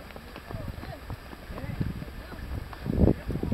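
Hooves of horses being ridden on a cavalgada trail ride through pasture clop in an uneven, close rhythm, growing louder near the end under faint background voices.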